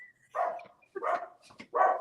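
Dogs barking indoors at home: three loud, close barks in quick succession with short gaps between them, no talking over them.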